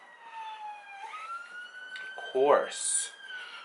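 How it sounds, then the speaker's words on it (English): A police siren wails with a rising and falling tone, steady at moderate distance, with a brief burst of louder noise partway through. "Police sirens."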